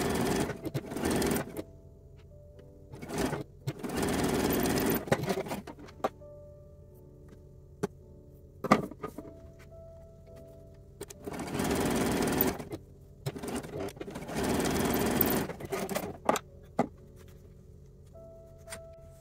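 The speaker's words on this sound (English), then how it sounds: "we're going to stitch this together with a 3/8 inch seam allowance" A sewing machine stitching a 3/8 inch seam in bra fabric runs in several bursts of steady, close whirring, separated by pauses with small clicks and handling noises.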